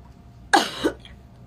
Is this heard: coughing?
yes